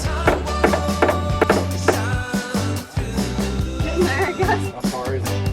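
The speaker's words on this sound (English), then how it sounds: "after enough whacking, we got them snugly in place and flipped the boat back over" Wooden bulkheads are hammered down into a boat hull during a snowy build, a run of sharp, resonant knocks in uneven bursts, close and loud, with music playing underneath.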